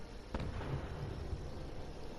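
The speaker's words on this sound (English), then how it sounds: "And there's a big explosion going off." A big explosion in Fallout 76, a single muffled boom that rolls out into a low rumbling tail, heard at moderate distance.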